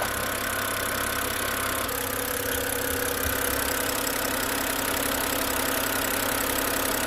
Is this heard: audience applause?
no